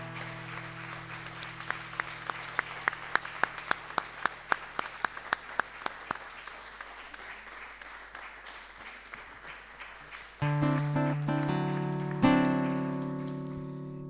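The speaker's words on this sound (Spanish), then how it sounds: "Por eso yo quiero pedir un aplauso gigante para la memoria de Gustavo Ruz." A small crowd at a tribute to Gustavo Ruz Zañartu gives scattered, distinct claps that thin out over about eight seconds. Sustained musical chords then swell in after a short lull.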